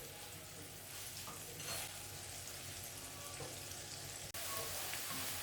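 Ginger, garlic, onion and vegetables stir-fried in a pan, giving a steady, close hiss of sizzling oil with faint scrapes of stirring, unbroken except for a brief cut near the end.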